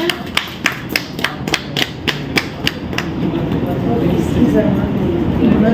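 At an Inner Wheel Club official visit event in Delhi, a round of sharp, evenly spaced claps gives way to a denser, steady wash of audience clapping and crowd noise.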